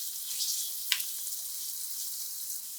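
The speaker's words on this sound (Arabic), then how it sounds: "بعدين بنحط ملعقة صغيرة من توم مهروس وبنقلبهم سوا لحتى تفوح ريحة التوم وتنخلط" Crushed garlic and spices are stirred and fried with onions for a chicken kabsa, giving a steady, close hiss of sizzling with one sharp scrape or clink early on. No one speaks.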